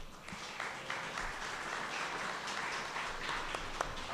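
Audience at a Philadelphia City Council neighborhood budget hearing applauding, a moderate ragged stretch of clapping with a few sharper individual claps standing out.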